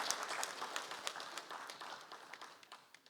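An audience at a Nigerian Society of Engineers lecture gives a faint round of applause for an introduced engineer, scattered clapping that thins out over a few seconds.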